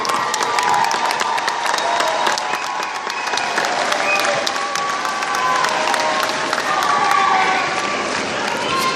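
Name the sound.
crowd clapping and cheering for graduates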